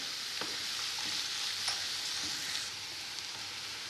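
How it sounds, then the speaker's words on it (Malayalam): Chopped ginger and onions sautéing in a pan with salt, a steady hiss of frying broken by a few soft stirring scrapes; close, even, and free of any talk. "ഇതിലേക്ക് ഇഞ്ചി അരിഞ്ഞതിട്ട് കൊടുക്കാം, സവാള അരിഞ്ഞതിട്ട് കൊടുക്കാം. നല്ലപോലെ വഴറ്റിയെടുക്കാം."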